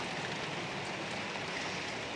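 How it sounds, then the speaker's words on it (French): Hail or hard precipitation falls outdoors in a steady, dense hiss of countless small impacts, constant in level and with no voices. "Il grêle pratiquement."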